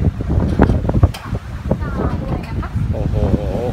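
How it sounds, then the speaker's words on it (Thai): Sea wind gusting over Haad Rin beach on Koh Phangan, a loud, continuous rush buffeting the microphone, heard under steady talking throughout. "นี่ฮะลมมาแล้วลมทะเล"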